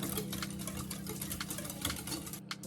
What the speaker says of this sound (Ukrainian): І збиваємо рідку суміш вінчиком.